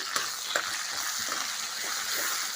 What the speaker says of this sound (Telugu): ఇందులోకి అల్లము పచ్చిమిరపకాయలు కొత్తిమీర పేస్ట్ వేసేసి పోపులో వేయించుకుంటున్నానండి